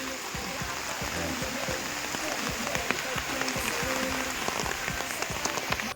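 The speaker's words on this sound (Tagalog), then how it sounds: "Talagang grabe po yung ulan." Heavy rain pouring down during a storm, a dense, steady hiss of drops pattering on surfaces nearby, with no talk heard.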